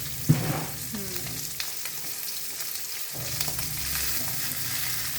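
Dried red chillies and shallots frying in hot coconut oil, a continuous crackling sizzle with a utensil knock near the start and a brief quieter dip midway.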